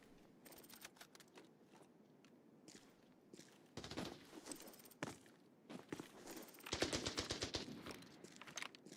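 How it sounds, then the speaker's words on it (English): Video game gunfire bursts out in rapid automatic volleys and scattered single shots around a building, mixed with close footsteps and shuffling movement, growing denser toward the end. "This guy is shooting."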